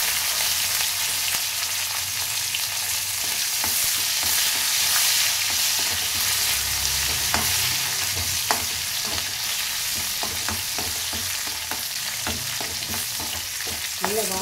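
Onion, curry leaves and dried chilli fry in oil for sambar rice, a loud continuous sizzle close by with intermittent stirring clicks and scrapes from a utensil in the pan.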